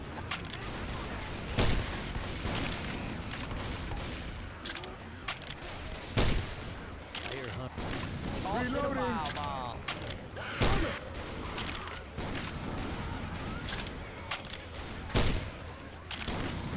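Repeated gunshots from players shooting zombies in the video game Left 4 Dead 2, sharp cracks and short bursts scattered across a busy game mix, with people talking over the action.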